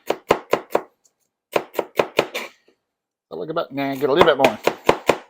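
Celery being minced with a knife on a cutting board: rapid runs of sharp, close chops in bursts, pausing as a person talks, then chopping resumes.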